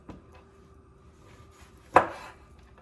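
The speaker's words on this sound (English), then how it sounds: "Cut these into more bite-sized pieces." A single knife chop through salmon on a cutting board, cutting it into bite-sized pieces for pickling, one crisp close thud after quiet handling noises.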